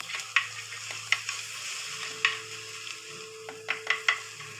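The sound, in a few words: sliced onions sizzling as they fry with ginger and garlic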